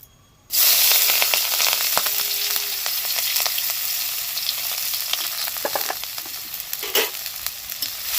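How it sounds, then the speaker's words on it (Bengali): Chopped onion hits hot oil in a pan and erupts into a loud, steady sizzle and hiss that carries on, with occasional crackles and stirring scrapes. "এখানে দিয়ে দিচ্ছি পেঁয়াজ কুচি"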